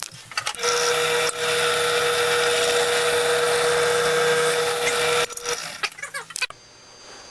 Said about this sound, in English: Okay, now we got that drilled.